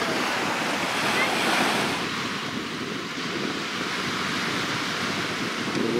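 Sea surf washing onto the beach at Kobuleti on the Georgian Black Sea coast, a steady broad roar of breaking waves heard close, with some wind buffeting the microphone.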